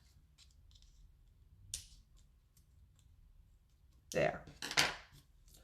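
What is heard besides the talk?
cutting paper with scissors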